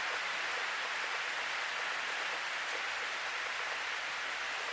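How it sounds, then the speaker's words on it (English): Heavy rain pours onto a metal roof in a steady, unbroken hissing roar with no pauses, loud and even throughout. "it's pouring down rain outside, so it's just bouncing off that metal roof I have"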